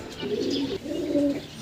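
Young pigeons give two soft, drawn-out coos in quick succession, close and clear against a quiet background.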